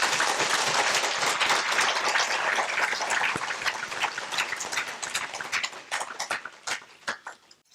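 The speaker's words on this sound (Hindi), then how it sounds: "तो एक बार जो ताली बजा लेते हैं।" A lecture audience at a talk on natural drug development claps together, loud and dense at first, then thinning into scattered individual claps that fade out by the end.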